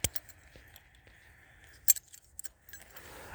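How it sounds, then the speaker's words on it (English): Keys jangle and clink in short bursts, close by, with a few brief metallic rattles and quiet handling noise between them, before opening the hatch of a 1981 Ford Escort GL wagon. "we'll grab our keys and we'll pop open the hatch"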